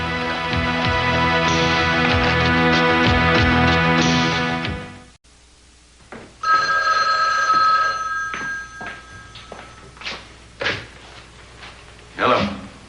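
A telephone rings with a continuous electronic bell trill for several seconds, then stops abruptly; a handset clunks and a door thuds, followed by scattered knocks and movement in a room.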